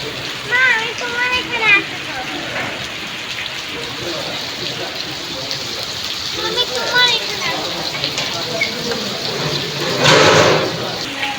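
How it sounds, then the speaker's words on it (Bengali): Heavy downpour during a family gathering, a dense steady wash of rain heard throughout while people talk over it, a louder surge of rain near the end. "এত বৃষ্টি দেখো ঝুমঝুমার বৃষ্টি একদম"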